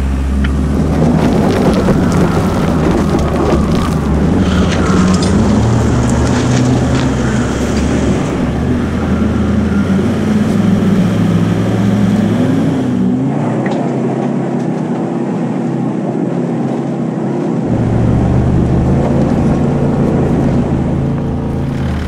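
A 4x4 climbing a steep high-country hill under a tow strap, its engine a loud, steady rumble throughout with a brief dip in low drone midway.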